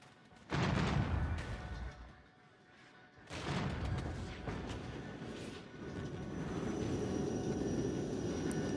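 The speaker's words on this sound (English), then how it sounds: "Let's hit these guys with some rockets." Rocket artillery fire in the strategy game Regiments: heavy, booming volleys strike in succession, then blend into a loud, sustained rumbling roar with no voices.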